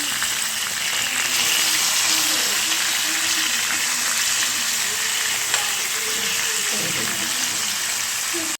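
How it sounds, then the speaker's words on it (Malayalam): Fish frying in hot oil in a pan, a loud, constant hiss and crackle close by, with a faint voice speaking briefly underneath the sizzle. "നമ്മുടെ മീനെ നമുക്ക് വറുത്തിട്ട് നോക്കാം."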